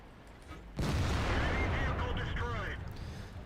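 In the World of Tanks video game, a T-30 fires a sudden loud, booming cannon shot that rolls into a sustained rumble and slowly fades.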